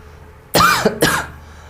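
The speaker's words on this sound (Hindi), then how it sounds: "मुझे इतना खांसी क्यों आ रहा है?" Two sharp, close coughs in quick succession, loud against a quiet background.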